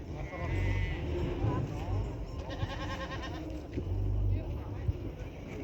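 Sheep bleat repeatedly at a livestock market in Kyzylorda, several wavering calls rising over crowd noise and nearby voices talking.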